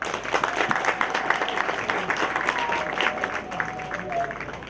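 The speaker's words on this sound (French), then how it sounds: "Applaudissez pour lui." Audience applause at a memorial celebration honouring a man's life, a steady wash of many hands clapping with crowd noise that fills the whole stretch at an even, moderate level.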